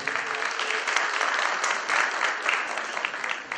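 Steady, dense applause from an audience welcoming a licenciado speaker at a talk on protected natural areas and tourism, loud and continuous throughout with no voices over it.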